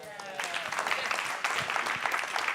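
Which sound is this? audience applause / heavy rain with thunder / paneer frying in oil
audience applause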